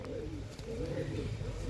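Close, soft throaty cooing from high-quality breeding pigeons in a loft, a couple of rolling coo phrases over a low background hum.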